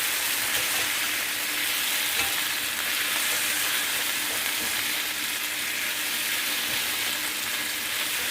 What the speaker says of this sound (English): It is on high heat. So, you want it to fully brown. Make sure the meat is fully cooked.